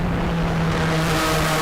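A pack of race cars roars past on the Sebring long-course circuit during a 12-hour race weekend, a loud, steady engine drone close by with a sustained low tone throughout.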